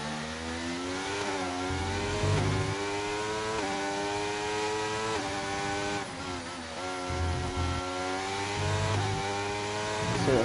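A Mercedes Formula 2 race car in a racing video game, lapping the Spanish Grand Prix circuit, holds a loud, continuous engine whine. The pitch climbs and dips repeatedly through gear changes and braking.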